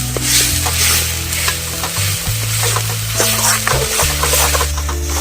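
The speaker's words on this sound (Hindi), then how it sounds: "मसाले को अच्छे से हम भून लेते हैं फटाफट" Spice masala roasts in a hot pan for a taro root (arbi) curry, a loud, continuous frying sizzle with steady stirring and scraping close by, and no voices.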